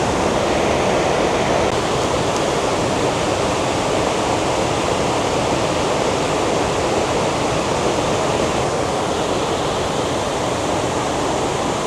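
Kuntala waterfall in Telangana sends up a constant, loud rushing roar of falling water, broad and unbroken, with no voices over it.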